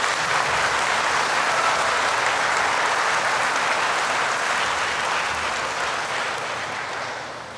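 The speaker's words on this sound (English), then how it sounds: "Let's give them all a big round of applause" Big round of applause from the audience at IMSA's 39th convocation, a dense, steady roar of clapping that holds for several seconds and eases slightly at the end, with no talking over it.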